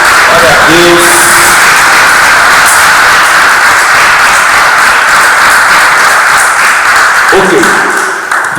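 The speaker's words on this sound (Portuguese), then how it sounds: "Se você puder aplaudir o Senhor Jesus mais uma vez" Congregation applauding the Lord Jesus during a church service, steady dense clapping and cheering that fills the whole stretch, with brief voices rising near the start and end.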